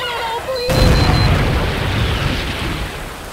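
A bobblehead blowing up in Max Payne 2: after a short lull of tonal music, a sudden loud booming blast hits and rolls into a sustained rumbling roar that fades slowly.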